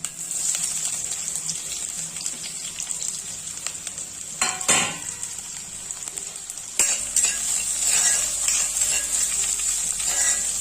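Okra (bhindi) frying in a pan for an Assamese home meal, with a steady close sizzle throughout and a brief louder burst of stirring partway through.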